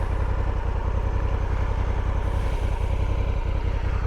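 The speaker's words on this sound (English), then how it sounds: "Stock exhaust on the Honda Africa Twin." A 2022 Honda Africa Twin adventure motorcycle with its stock exhaust idles close by, a steady low engine throb with even pulsing and no other sounds over it.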